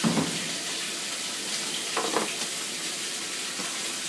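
Water and soap swish inside a running washing machine in a home, a soft steady wash with a few faint splashes and clunks, heard up close.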